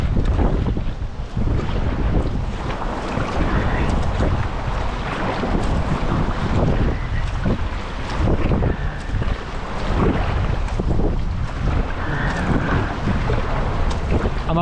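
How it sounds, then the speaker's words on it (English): Strong gale-force wind roars steadily across a microphone on the River Wharfe, a continuous loud buffeting rush with water sloshing around a paddleboard, no talk. "the wind is blowing a gale"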